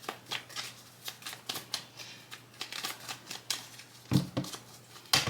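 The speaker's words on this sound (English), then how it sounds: "Let me just shuffle because a whole ton of cards just fell out." A deck of tarot cards is shuffled by hand close up, a quick series of crisp riffling and slapping bursts in an uneven rhythm, with a couple of sharper knocks near the end.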